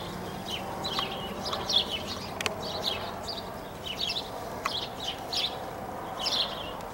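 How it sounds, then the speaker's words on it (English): Young crows perched in a tree on a rainy day give a run of short, raspy, chirping calls at moderate distance, repeating every second or so over a soft background hiss. "The baby crows."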